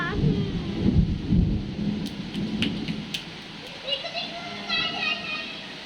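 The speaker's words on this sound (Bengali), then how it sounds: "এত বৃষ্টি হচ্ছে ছাদ পুরো ভিজে গেছে" A heavy thunderstorm: rain hisses steadily and low thunder rumbles loudly at the start, while children's voices chatter and call in the background.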